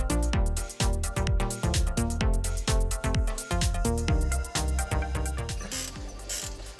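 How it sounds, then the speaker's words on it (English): GearWrench 14mm ratcheting wrench working a long bolt, a loud, steady run of close ratchet clicks in repeated strokes, each burst of fast clicking followed by a brief reset, with no talk over it. "Give me the 14mm ratcheting wrench."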